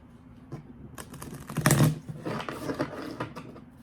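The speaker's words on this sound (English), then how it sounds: "Shuffle this the good old-fashioned way." A deck of cards is riffled and shuffled in quick bursts of fluttering clicks, with a louder riffle in the middle, close up.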